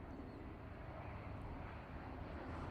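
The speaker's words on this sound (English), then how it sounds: "A400M Atlas starts his takeoff run." An Airbus A400M Atlas military transport begins its takeoff run at an airshow with a faint, distant, steady low turboprop roar over wind-buffeted outdoor ambience.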